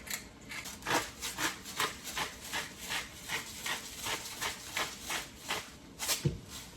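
A pepper mill grinding black pepper over scrambled eggs for Indian-style bhurji, a close series of rhythmic gritty cranking twists repeating about twice per second.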